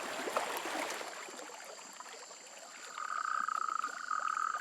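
Male toads call during mating, a clear chorus of croaking with a long, steady high trill rising in from about three seconds in, over faint trickling water.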